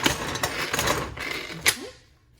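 A Tupperware Power Chef pull-cord chopper grinds meat with a few quick rasping, whirring bursts as the cord is yanked, closing on a brief rising spin before it winds down to quiet.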